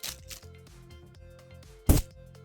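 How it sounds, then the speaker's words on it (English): A bag knocks against a desk microphone during an unboxing, giving one loud, close, broadband thump that stands out sharply from a quiet background of faint rustling and handling. "That was the sound of the bag hitting my mic."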